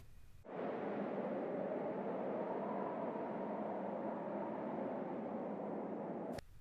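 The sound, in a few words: wind in a forest without birds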